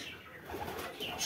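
A male Kaldam pigeon, a chini kaldam, coos softly and close by in a single brief, low call.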